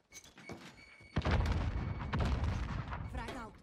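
A frag grenade goes off in Call of Duty Warzone (Cold War) with a heavy, close boom, followed by a dense rumble of explosions and gunfire that fills the rest of the moment.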